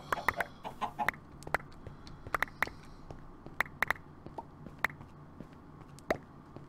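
Chickens cluck in Minecraft, where the flock includes copper, yellow and cocoa brown chickens. Short, scattered bursts of clucks and squawks come at irregular intervals over a quiet background, with no talk.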